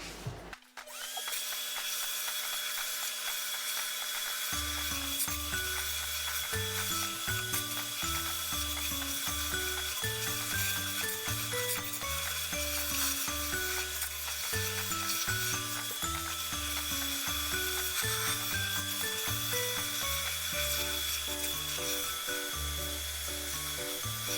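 A vacuum cleaner pulls a toothbrush out of a clogged toilet, giving a loud, steady roar with continuous rattling and clattering throughout, with no talking.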